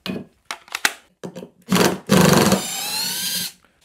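An impact driver sinks a large screw into a piece of wood: short stuttering bursts, then a long rattling hammering run that winds down to stop, loud and close with no talking.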